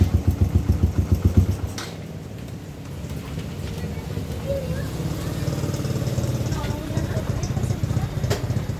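A carbureted motorcycle fitted with a KTM speedometer starts up, its engine chugging rhythmically up close, then settles into a steady idle while someone talks over it.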